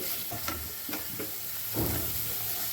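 A utensil stirs tomatoes cooking with salt in a pan, giving several scraping strokes over a low sizzle, close and moderately loud.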